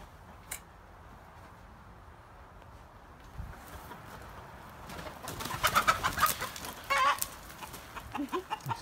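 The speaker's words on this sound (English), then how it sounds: "Scaring my chickens." Chickens cluck and squawk nearby, growing louder and more agitated in the second half, over low background rumble.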